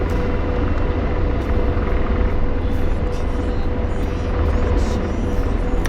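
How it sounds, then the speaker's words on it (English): A Chinook helicopter flies in a video game, its loud, dense rotor and engine roar steady and close throughout, with faint clicks on top. "Is that Chinook moving yet?"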